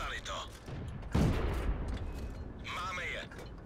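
A single loud tank cannon blast in a World of Tanks-style tank battle game, fired from a Czech ST vz. 39 tank: one sharp boom followed by a rumbling decay, with a voice talking in German before and after.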